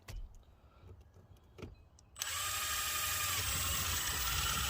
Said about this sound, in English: So I switched that bit out and I'm going to a 732 drill bit.